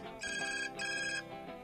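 A mobile phone rings with a repeating electronic ringtone, two bright tonal bursts over soft background music, moderately loud and close, with no one speaking.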